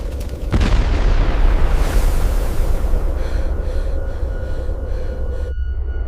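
A dramatized eruption of the Krakatoa volcano in 1883: a sudden enormous blast followed by a sustained, roaring rumble that stays loud for several seconds before cutting off abruptly near the end.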